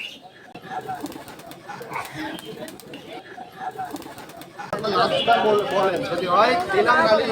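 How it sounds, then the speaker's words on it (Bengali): Pigeons coo at the Nayabati pigeon market in Khulna as a male bird displays indoors, with soft calls mixed into steady crowd chatter and nearby talking that grows louder toward the end. "কবুতরটা বাজি করতেছে"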